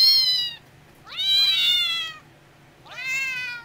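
A Cat Piano app plays three recorded cat meows in turn, each a loud, close, drawn-out call with short quiet gaps between them.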